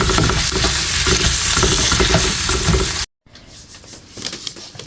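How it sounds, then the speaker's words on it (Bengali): Boiled beef being cooked again in a pan fries with a loud, close, continuous sizzle and stirring for about three seconds, then cuts off abruptly to quieter, fainter kitchen sounds. "যে গরুর মাংসটা আমি গতকাল এটাকে সিদ্ধ করে রেখেছিলাম, সেটাকে আবারও আমি জাল দিচ্ছি"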